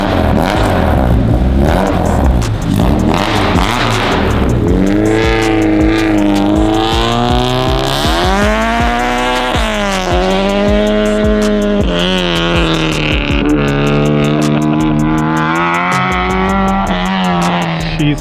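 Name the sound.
car revving and driving loudly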